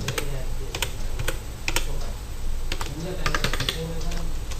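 Quick clicking keystrokes on a computer keyboard as an invoice number is entered into accounting software, a busy patter of close taps with a voice talking over it.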